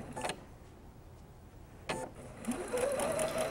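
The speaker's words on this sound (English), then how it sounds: "Let the presser foot come up so I can easily" A sewing machine stitching quilt pieces starts up in short bursts, with a brief mechanical clack before a rising whir that settles into a steady hum near the end, close and fairly quiet.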